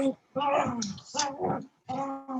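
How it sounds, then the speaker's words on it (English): Dogs wrestling with each other inside a home apartment give off bursts of growls, whines and yips in the background, broken by short pauses, with voices nearby. "dogs are like wrestling with each other in the background"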